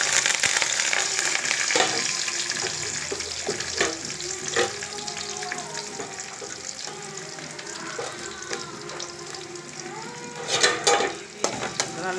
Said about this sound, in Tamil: பொரியுது.